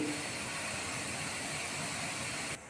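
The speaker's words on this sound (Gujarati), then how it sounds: "લોચો સ્ટીમ થઈ રહ્યો છે, વરાળ પણ નીકળી રહી છે" Lasaniya (garlic) locho, a Gujarati steamed gram-flour batter snack, steams in a steamer with a constant soft hiss that stays even and close before cutting off abruptly at the end.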